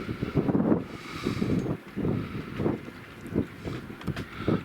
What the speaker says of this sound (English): hear the wind getting up now